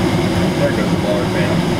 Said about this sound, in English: There goes the blower